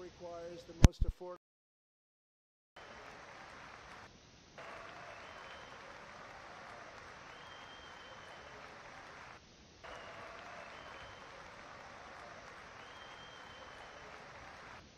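Applause in the chamber at the State of the Union address, a steady distant clapping that runs on for many seconds, briefly broken by short gaps.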